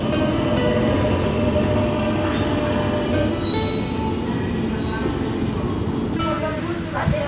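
A train rolls along with a steady rumble, rhythmic wheel clatter and occasional high metallic squeals, heard from onboard.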